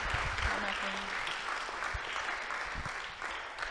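An audience claps in a full, sustained round of applause, with a few voices faintly mixed in beneath the clapping.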